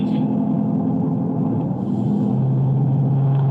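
Lead car speeding during a live-streamed race, its engine giving a steady, fairly loud low rumble throughout with no pauses.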